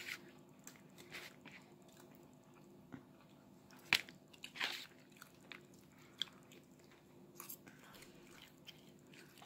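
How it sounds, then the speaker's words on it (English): Someone eats pizza up close, with soft crunchy bites and chewing that come in irregular bursts over a low, quiet room background. One sharper crunch stands out midway. "Show them how you should eat a pizza."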